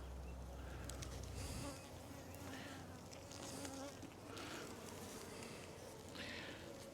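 Honeybees buzz in a dense, steady swarm during a hive split, loud and close throughout. A few low thumps from handling the hive come early on.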